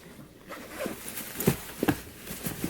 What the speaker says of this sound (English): I'm just going to unzip it.